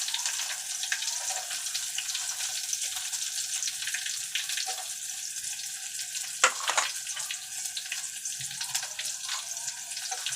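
Onion going into hot oil with ginger and garlic for masale bhaat, giving a steady, even sizzle throughout with a couple of brief sharper crackles partway through and no talking.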